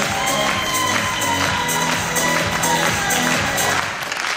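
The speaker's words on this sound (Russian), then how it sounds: "А зрители зал неустанно аплодируют" Audience in a university hall applauding steadily at an honors-student award ceremony, dense sustained clapping with some crowd noise, loud and continuous throughout with a slight dip at the very end.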